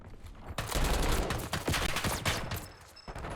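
Loud, dense bursts of automatic gunfire in Call of Duty: Black Ops 6 fire in rapid volleys, with a few sharp individual shots cutting through the sustained clatter.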